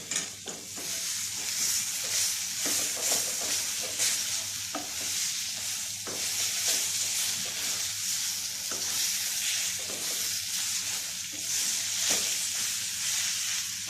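Tuna pieces sizzling in a hot pan while being stirred, a constant bright frying hiss broken by repeated scraping and tapping of the spoon against the pan, close and clear with no talk.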